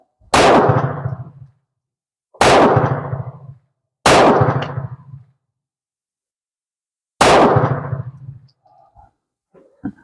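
Pistol firing at a shooting range: four loud, sharp reports with short ringing decays, the first three close together and the fourth after a pause, followed by faint clinks.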